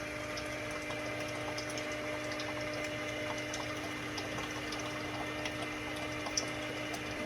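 A small pump hums steadily as it transfers drained oil from a Caterpillar 3208 diesel engine into containers, a faint continuous whir with liquid gurgle and no talk.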